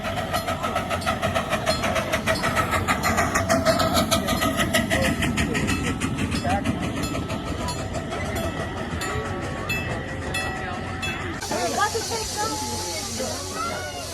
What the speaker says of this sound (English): We had so much fun at the Tilden Park Steam Train